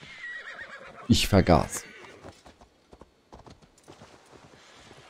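A horse whinnies loudly in Assassin's Creed Valhalla, followed by soft clopping hooves, while someone speaks quietly under the sounds.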